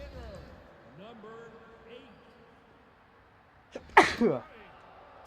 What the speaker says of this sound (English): As I sneeze.